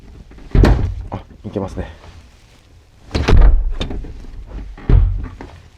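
Back door of a kei car converted into a camper, with a round wooden panel screwed on, is opened and pushed: three solid thunks of the door moving and latching, close and loud, with someone talking between them.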